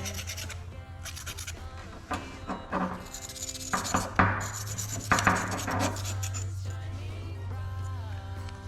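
A knife blade scrapes and rubs grease off a metal part in a series of irregular close scratching strokes, with a steady low hum running underneath.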